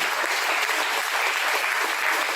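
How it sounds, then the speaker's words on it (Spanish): A church congregation claps loudly and steadily in praise during a Spanish-language sermon, a dense, sustained wash of applause filling the room without pause. "Dale un fuerte aplauso al Señor"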